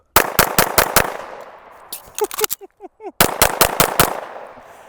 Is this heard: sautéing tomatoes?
no